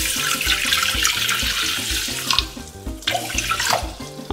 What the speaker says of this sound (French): Et je viens rajouter juste un peu d'eau.